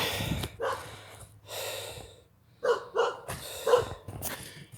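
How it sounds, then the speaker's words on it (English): Dogs bark outside, several loud close barks and snorting huffs in uneven bursts, with breathing-like sounds between them and no talk. "the dogs are out there and I fucking hate the barking dogs"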